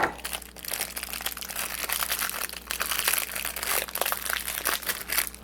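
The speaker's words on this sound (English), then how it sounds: "I'm gonna use my pliers and improvise as scissors." Pliers improvised as scissors snip and crinkle through a piece of plastic during a camera-mount build for a small robot kit, giving a close, steady run of crackling, crunching plastic sounds for several seconds with no talking.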